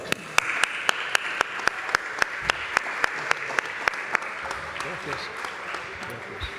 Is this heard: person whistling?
no